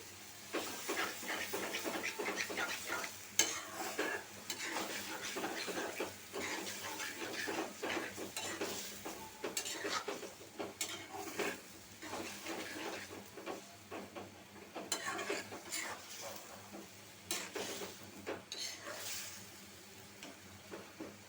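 Onion and ground spices frying in a pan for chapa shutki bhorta, stirred continuously with steady sizzling and scraping for the whole stretch, fairly quiet and close, with no talking.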